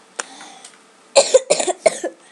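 Several harsh coughs from a person playing Minecraft Sky Wars, a lone faint one first, then a close, loud cluster of three or four hacking bursts in quick succession.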